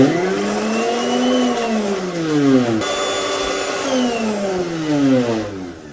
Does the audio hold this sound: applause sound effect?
no